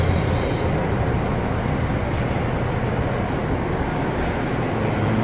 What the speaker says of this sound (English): This is the downstairs portion of the air train.